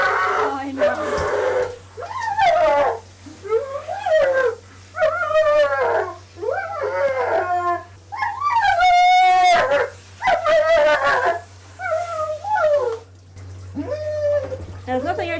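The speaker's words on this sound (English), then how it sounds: "German Shepherds do tend to make a lot of noise." German Shepherd cross Staffy dog at a dog wash, howling and whimpering in a string of rising, wavering cries with short pauses, close and loud, while the groomer talks in between and water runs faintly.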